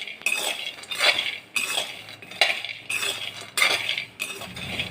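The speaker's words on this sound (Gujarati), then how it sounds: "આપણે એકદમ મીડિયમ ટુ લો ગેસ ઉપર જ દાણાને આ રીતના શેકી લેશું" Grains being dry-roasted and stirred in a pan over a medium-low flame, heard as steady metallic scraping and clinking of a spoon against the pan in repeated sweeping strokes, close and continuous with no voices.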